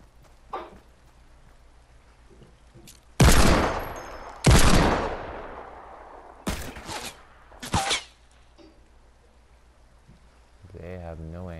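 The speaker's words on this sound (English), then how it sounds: "They're just firing to fire to see if they got luck shots." Gunshots in Fortnite, including a Desert Eagle pistol: a few loud, sharp cracks and short broadband bursts spaced over several seconds, some ringing briefly, over a quiet low background with faint distant pops.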